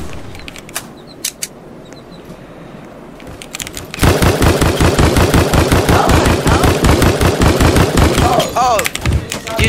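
Rapid automatic gunfire from a Roblox Strucid match, a quiet stretch of faint single shots followed by loud, dense bursts of shooting that carry on steadily to the end.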